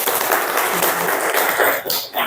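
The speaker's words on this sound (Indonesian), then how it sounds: "Tepuk tangan untuk" A classroom of students applauds during a group career-guidance lesson, dense clapping filling the short stretch at a steady level before tapering off near the end.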